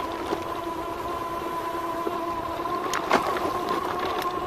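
A 2018 Rad Power Bikes RadMini electric folding fat bike's motor under throttle gives a steady, fairly loud tonal whine with rushing wind and road noise beneath it and a few brief bumps.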